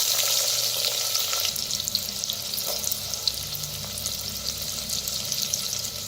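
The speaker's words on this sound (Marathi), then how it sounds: "तेल चांगलं गरम झालंय. ज्यात टाकूया मोहरी." Mustard seeds, cumin, asafoetida and onion sizzle in hot oil in a pot, a dense, continuous frying hiss with faint crackles and pops throughout.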